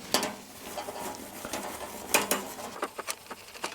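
Steel wool rubs a car bumper with close, uneven scratchy scrubbing, rough abrasive strokes and occasional clinks of metal, irregular in rhythm, with no voices.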